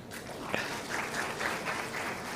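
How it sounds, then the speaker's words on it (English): An audience at a bootcamp applauds in a soft, even patter of clapping heard from a distance, with no talk over it. "Great round of applause for him."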